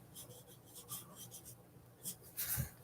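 Markers scratch and squeak across paper in short strokes, faint and close, with a few brief pauses and a slightly louder scrape near the end.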